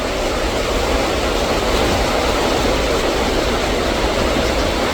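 Dhuandhar waterfall, with water pouring over marble rocks into a forested gorge: a loud, steady, broadband roar of falling water that continues without a break.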